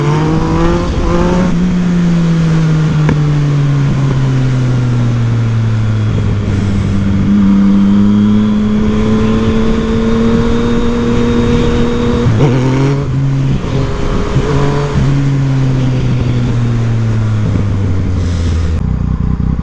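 Yamaha MT-09 motorcycle accelerating hard while wheeling up, a loud close engine note that climbs and falls through repeated rev sweeps with brief gear-change dips.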